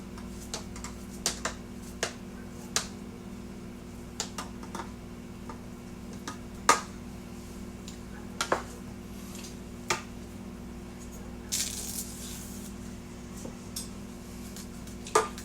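A knife slices bananas for banana pudding, making evenly spaced, crisp taps of the blade against a cutting surface with a few louder clicks, over a quiet steady background hum and no talking.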